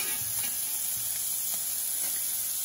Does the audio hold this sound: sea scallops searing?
yes